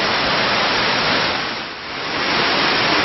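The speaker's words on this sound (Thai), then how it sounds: "น้ำตกสายลุง อันนี้เป็นชั้นข้างล่างนะครับ" The lower tier of the Sai Rung waterfall pours in a loud, continuous rush of water that dips briefly in strength midway before returning to a full, steady roar.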